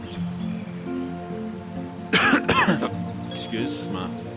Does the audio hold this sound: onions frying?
no